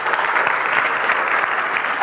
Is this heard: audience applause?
yes